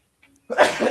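A single sharp human sneeze bursts out close to the microphone after a brief faint breath, loud and abrupt, ending the moment.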